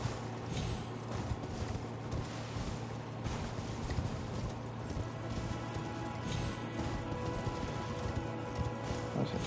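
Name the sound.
horse galloping in video game Elden Ring, Torrent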